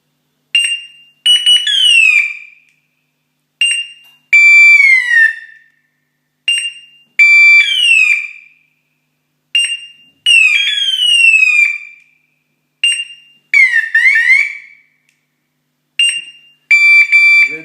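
An ECR beeper beeping electronically in short chirping bursts, repeating every couple of seconds with brief pauses between, bright and close, with no voices.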